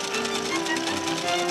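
Sewing machine sound effect running steadily throughout, a continuous mechanical whir and rapid stitching rattle at moderate level, with no pauses.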